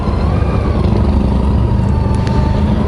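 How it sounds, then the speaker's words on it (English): A BMW's engine hums steadily on a highway through the Black Hills of South Dakota, a loud continuous road and wind roar with no distinct revving or passing peaks. "listen to that BMW."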